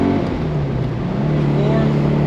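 A 1967 Porsche 912 drives along in third gear, its engine a steady, close, low droning hum with a faint rising tone layered over it.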